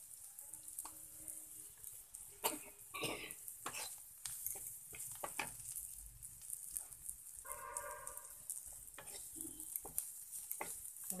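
Spices fry in a pan with a splash of water, giving soft sizzling broken by repeated scraping and stirring clatter, fairly quiet and uneven, no talk.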